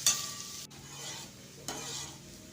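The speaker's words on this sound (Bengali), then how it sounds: "সব সবজিগুলোকে অল্প লবণ দিয়ে ভেজে নেব" Steady sizzle of vegetables, including beans, frying with a little salt in a pan, with a couple of sharp stirring scrapes breaking the hiss.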